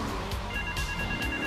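A telephone rings in the GTA 3 video game, with repeated bell bursts at a steady rhythm, loud and close, alone with no talk.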